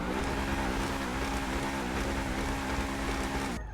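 Truffade Thrax supercar engine in GTA Online, a loud, continuous droning roar with steady revving harmonics that hold for several seconds before cutting off abruptly at the end.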